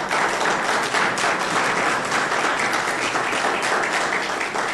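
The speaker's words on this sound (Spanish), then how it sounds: "Dale un aplauso al Señor" A church congregation applauds in praise, a dense, steady wash of many hands clapping together that holds loud and even throughout.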